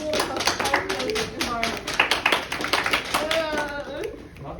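A school audience at a world history class play claps, scattered hand taps and applause running steadily, mixed with voices and children talking throughout.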